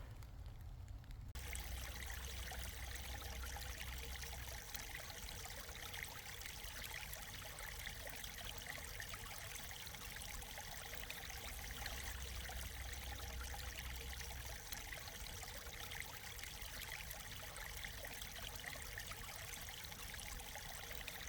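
Creek water in a canyon, flowing and trickling at a steady, quiet level with no voices over it.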